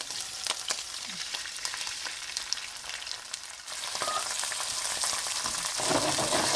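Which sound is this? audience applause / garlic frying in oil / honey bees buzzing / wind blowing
garlic frying in oil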